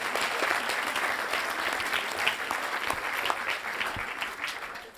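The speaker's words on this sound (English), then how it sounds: "Give him a round of applause." An awards ceremony audience breaks into sustained applause, dense clapping filling the room at a steady level before tapering slightly at the end.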